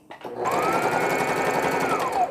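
A sewing machine runs at speed while stitching around a thick piece of a baby bonnet, giving one continuous loud whirring burst that starts abruptly and holds for about two seconds.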